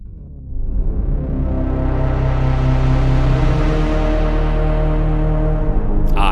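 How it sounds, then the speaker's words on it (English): A dense tone from a Dave Smith Mopho analog synth swells in and sustains as a thick, smeared reverb wash chopped into delay, with a faint rhythmic pulsing through it, cutting off abruptly at the end. "that blurry, long, continuous tail of the reverb is going to be chopped up into delay"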